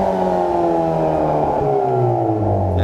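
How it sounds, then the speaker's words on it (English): A 2021 Hyundai Veloster N with 8-speed DCT revs hard at full throttle in normal mode, a loud steady exhaust drone with harmonic tones sliding gradually downward. "full throttle in normal mode"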